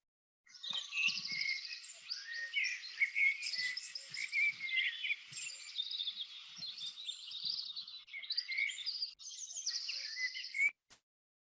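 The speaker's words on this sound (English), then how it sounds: "I shared with you the beautiful sound of birds" A dense chorus of high chirping and trilling birdsong, continuous and fairly faint, as if outdoors at a little distance, with no talking.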